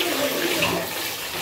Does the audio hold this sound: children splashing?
yes